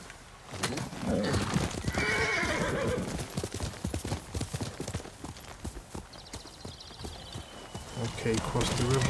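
Rhythmic hoofbeats of a galloping horse with a loud whinny in the video game Ghost of Tsushima, heard under steady talking from a nearby voice.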